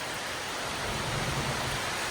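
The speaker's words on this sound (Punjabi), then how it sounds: "ਮੀਂਹ ਫੇਰ ਸ਼ੁਰੂ ਹੋ ਗਿਆ ਤੇਜ਼" Heavy rain pours down outdoors in a dense, steady hiss with a low rumble underneath, continuous and fairly close, with no voices.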